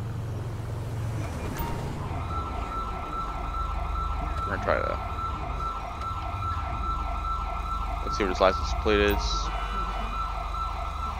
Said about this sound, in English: The paramedics have the same siren.